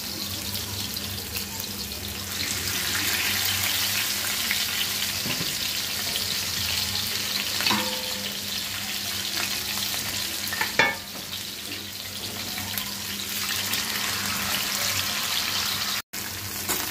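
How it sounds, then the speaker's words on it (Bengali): Chital fish frying in hot oil in a frying pan, a loud continuous sizzle and spatter heard close up for the whole stretch, with a few utensil clinks and no voices. "চিতল মাছ কিন্তু একটু অনেক ফুটে তেল ছিটে তাই একটু সাবধানে ভেজে নিতে হবে"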